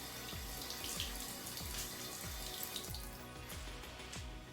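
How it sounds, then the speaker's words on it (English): Water being added to curly hair while it is blow dried; a steady, close rush of running water with soft, regular low thumps underneath, and no talking. "So while I'm making a mess, I'm adding more water."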